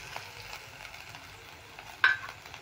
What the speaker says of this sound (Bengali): এবার এগুলোকে একটু নেড়ে নিচ্ছি, নেড়ে ভেজে নেব।